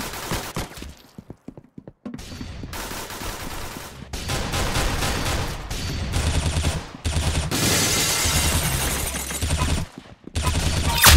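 Gunfire rings out in a shooting video game, with bursts of rapid automatic fire and single shots coming in uneven clusters, punctuated by brief silent gaps, close and loud against faint game ambience.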